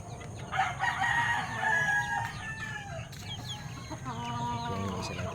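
A Kelso stag rooster crows out clearly, mixed with fowl clucking nearby, at moderate volume against a low farmyard background.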